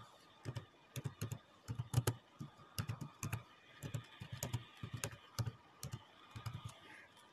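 Keys clatter in steady, close bursts as a chart title is typed on a computer keyboard, the quick clicks bunched into short runs with brief pauses, alone with no talking.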